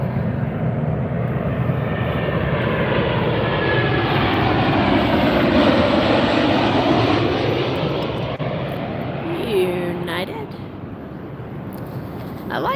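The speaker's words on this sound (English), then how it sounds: "Here comes our next plane." Low-flying airliner on approach to Las Vegas airport, a loud sustained jet engine roar that swells and fades over several seconds, with a brief voice near the end.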